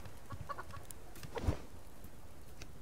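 Five chickens kept in the survival game Subsistence cluck faintly and sparsely in the background, with one slightly louder call near the middle.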